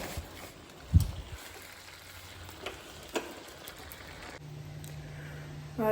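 Food frying in a home kitchen pan, a soft steady sizzle with a few sharp clatters of a utensil against the pan, fairly quiet and without talk.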